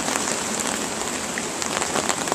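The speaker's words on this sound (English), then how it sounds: "The rain is coming down." Heavy rain from Hurricane Sandy pours down steadily and loudly, a dense continuous hiss of drops hitting surfaces close by with no pauses.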